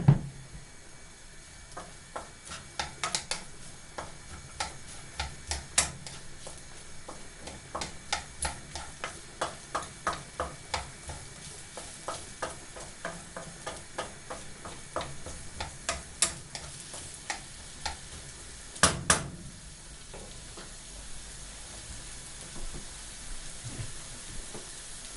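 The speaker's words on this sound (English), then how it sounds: "put some oil in the pan and throw in the onions and start cooking the onions" Onions cooking in oil in a pan, a soft steady sizzle with frequent light clicks and taps of a utensil stirring, one louder clatter near the end, no voices.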